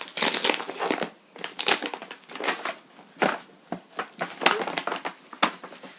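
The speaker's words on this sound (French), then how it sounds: "Il est emballé dans des papiers bulles." Crinkly plastic bubble wrap around a package crackling and crumpling in quick irregular bursts, close up, as it is handled and pulled apart.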